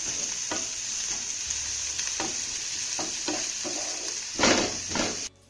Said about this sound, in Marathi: आता हा घातलेला कांदा आपल्याला चांगला सोनेरी रंगावरती परतून घ्यायचा आहे